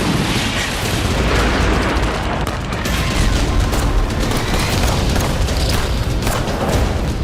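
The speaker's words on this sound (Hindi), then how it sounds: "चारों तरफ वेस्ट बैंक का इलाका फायरिंग और बमबारी से गूंज" Dense, continuous gunfire and bombing explosions in the West Bank's Qalqilya area, a loud roaring wall of booms and bursts filling the whole stretch with no pauses.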